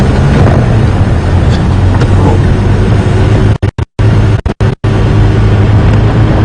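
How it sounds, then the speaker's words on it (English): Diesel engine of a safari game drive vehicle at Djuma Game Reserve droning loudly and steadily, a heavy continuous rumble with a few brief dropouts, close and dominant. "this diesel engine was droning quite loudly"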